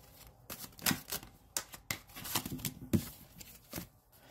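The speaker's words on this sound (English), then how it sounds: "One more shuffle." Tarot cards are shuffled by hand in a quiet room, giving a series of quick papery riffles and soft slaps in irregular bursts, close and fairly faint.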